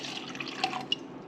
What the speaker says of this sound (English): And what I do is just put some water.